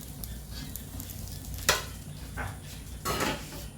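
Oil sizzles quietly and steadily in a pan as fish fries, broken by a few louder crackling bursts; no voices.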